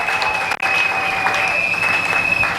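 A church congregation claps loudly and steadily through a short stretch of a sermon on the miracles of Elijah's mantle, with a sustained tone above the dense clapping and a brief dip partway through.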